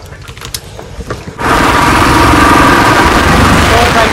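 A Royal Enfield Himalayan motorcycle engine starts up and runs loud and close, a steady rumbling drone that holds after a quieter opening with faint background sounds.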